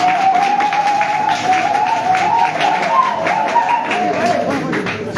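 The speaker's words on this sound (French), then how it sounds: "qu'on peut applaudir une fois de plus, s'il vous plaît." Audience applause at a press conference, steady close clapping that lasts throughout at an even loud level, with a tonal hum running underneath.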